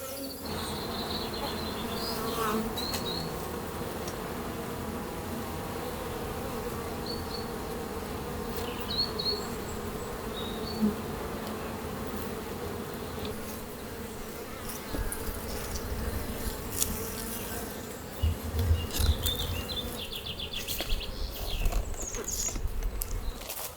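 Honey bees in a colony raising queen cells fill the air with a dense, continuous buzzing hum, close and steady, with scattered louder passes of individual bees and faint clicks over it.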